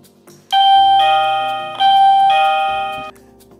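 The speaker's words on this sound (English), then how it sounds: "The hub will ring ding dong." A loud two-tone electronic doorbell chime from a Wi-Fi home alarm hub rings twice in a clear ding-dong pattern, ringing out briefly before fading.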